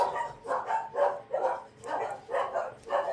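Dogs bark in a fast, steady run of about eight muffled woofs from another room, distant yet insistent, with no talking over them.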